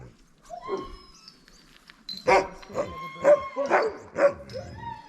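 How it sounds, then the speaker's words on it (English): Sled dogs in a dog pen beside a demonstration area at Denali National Park, several dogs barking and yipping in irregular bursts, with whimpers and a person talking softly in the background. "next to the demonstration area, they got a dog pen area"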